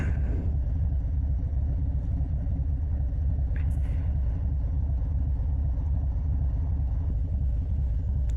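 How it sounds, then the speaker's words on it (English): A motorcycle's exhaust rumbles low and steady while the bike is ridden on the road home, a continuous deep drone with no pauses or revving peaks. "hopefully you can hear the exhaust a little bit through the mic"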